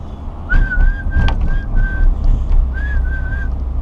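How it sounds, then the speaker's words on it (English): A person whistles a simple, cheerful one-note melody, the pure tone holding steady and repeating in short phrases with small pauses, clear and close over a low background rumble. "when's the last time you whistled or hummed a happy one-note melody tune?"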